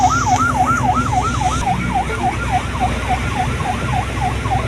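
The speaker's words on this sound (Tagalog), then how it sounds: "Pero tingnan mo, ang lakas ng wangwang nila." A loud siren from a vessel at sea, a rapid warbling wail that rises and falls in quick regular cycles over a low engine rumble, steady and close.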